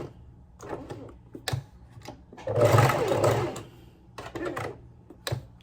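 A sewing machine stitching slowly, its needle ticking in short spaced bursts and then one longer steady run of whirring, close by.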